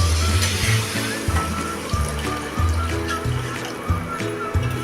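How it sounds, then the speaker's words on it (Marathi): Hot water pours into a pan of potato curry in a continuous splashing, gurgling stream, close by, with a voice faintly underneath. "बघा आता ह्यात अजून थोडं मी हे पाणी ओतून घेते"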